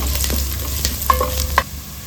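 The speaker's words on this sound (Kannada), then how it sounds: "ಒಂದು ಇಂಚಷ್ಟು ಶುಂಠಿನ ಕಟ್ ಮಾಡಿ ಹಾಕ್ಕೊಳ್ತಾ ಇದ್ದೀನಿ ಅದನ್ನು ಕೂಡ ಒಂದು ನಿಮಿಷ ಫ್ರೈ ಮಾಡ್ಕೊಳ್ಳೋಣ" Chopped ginger frying for mutton curry gives a brief burst of sizzle, with a few sharp clicks and scrapes as a spatula stirs the pan.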